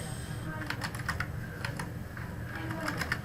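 Quick bursts of clicky keystrokes on a computer keyboard come while entering names into a table in Microsoft Word, irregular taps grouped in short runs over a low background hum.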